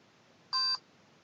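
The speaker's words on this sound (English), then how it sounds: "the robot should beep, and that tells you that the robot has received the program" A robot gives one short, clean electronic beep after receiving a downloaded program, clear and alone over faint background hiss.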